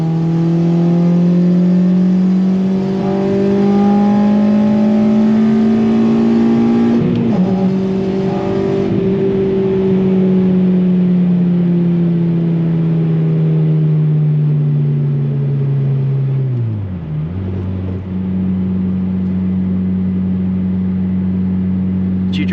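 A 2006 Honda Civic Si engine roars loudly from inside the cabin, climbing steadily in pitch under hard acceleration, then dropping sharply at gear changes before pulling up again.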